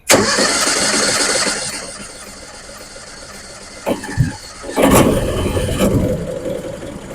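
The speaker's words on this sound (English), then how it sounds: "flip it to on, choke is out, and we're going to get it started" A small choked engine on a hydrogen peroxide tanker truck cranks and fires, then runs at a steady rough idle with a few sputters and a revving surge near the end. The sound is close and loud, with no speech.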